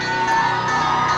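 A dense crowd at a girls' high school district tournament basketball game in Soda Springs cheers and whoops loudly throughout, with shouts blending into a continuous roar for the starting lineup.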